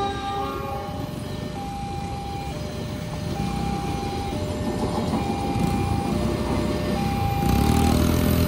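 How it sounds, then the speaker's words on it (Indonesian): Passenger trains Fajar Utama Jogja and Argo Parahyangan pass each other at the Kalijaya level crossing in Cikarang, a steady, loud rolling rumble that builds toward the end, with faint warning-bell tones sounding over it. "Fajar Utama Jogja tadi melintas berpapasan dengan Argo Parayangan."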